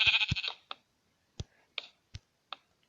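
A sheep bleats a few times in Minecraft, followed by a handful of soft, evenly spaced clicks in otherwise quiet surroundings.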